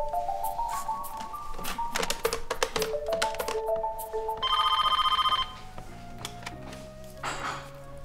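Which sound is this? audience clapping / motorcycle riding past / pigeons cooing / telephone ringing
telephone ringing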